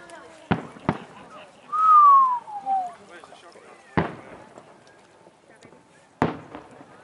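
New Year's Eve fireworks: three or four sharp, loud bangs spaced across the stretch, with a rising whistle from a launching rocket in between and people talking and exclaiming around them.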